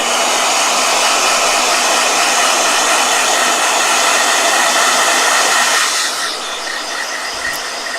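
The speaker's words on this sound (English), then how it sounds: "Oh, blow dryer." Blow dryer blasting loud and close with a constant airy whoosh, dropping to a lower, slightly quieter roar near the end.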